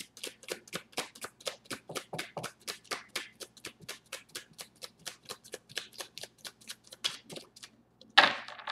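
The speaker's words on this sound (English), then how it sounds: "Shuffle one more time, guys." Tarot cards being shuffled in a long run of rapid, crisp riffling bursts, steady and close, ending with a sharper louder flick.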